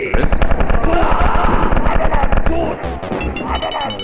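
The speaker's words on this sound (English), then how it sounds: "One of those guards got a lucky shot off." Guards fire in Wolfenstein 3D, a loud rapid burst of close automatic gunshots for over two seconds, followed by a few scattered shots and game sounds.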